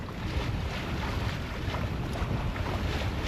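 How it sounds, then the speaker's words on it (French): Steady wind roars across the microphone aboard a sailboat at sea, a loud continuous rush mixed with water noise and no voices. "Mais en tout cas le vent se lève, donc ça c'est hyper agréable."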